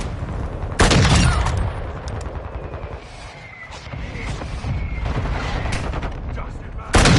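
Gunfire from the video game Modern Warfare 2: a burst of loud shots opens, followed by a stretch of mixed game noise, and another loud shot lands near the end.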